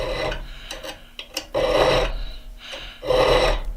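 Hand file lightly dressing the edges of an auger bit's spurs, heard as close rasping strokes, a few short light scrapes followed by two longer, louder filing passes, with no voices.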